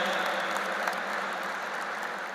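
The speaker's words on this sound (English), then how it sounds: "Let's give a big round of applause to Venerable Bhikkhu Sanghasena ji." An audience at an interfaith harmony conference gives a big round of applause for a venerable Buddhist monk. The clapping is soft and distant, a continuous wash of many hands with no voices.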